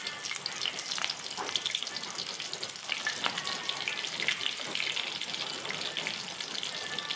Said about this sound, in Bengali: মরিচ আর পেঁয়াজটা আমি একটু ভেজে নেব